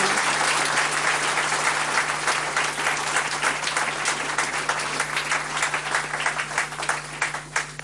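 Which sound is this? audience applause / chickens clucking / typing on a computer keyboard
audience applause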